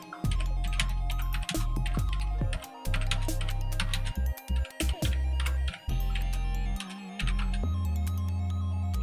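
Rapid keystrokes on a computer keyboard, typing text in a steady burst of clicks with short pauses, close and clear with no talking.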